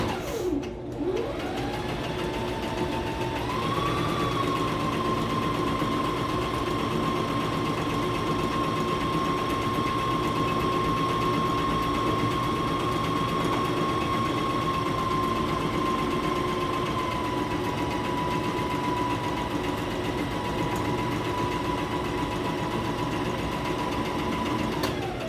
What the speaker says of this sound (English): So I am going to sew my pocket curve.